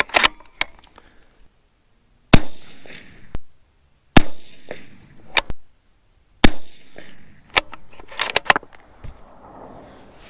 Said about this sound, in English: That should have been 5 shots, empty magazine.